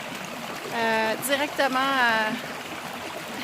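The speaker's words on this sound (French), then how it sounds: "vous entendez sûrement le son de l'eau. Je suis assise dans un ruisseau" A shallow stream flows at Valmorin campsite, with a woman sitting in the water: a soft, steady trickle runs beneath her close, clear speech throughout.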